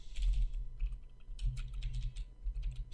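Quick bursts of computer keyboard typing while entering C# code, close clicking keystrokes in uneven clusters with short pauses between.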